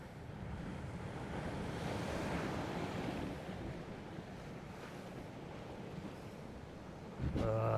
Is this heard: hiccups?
no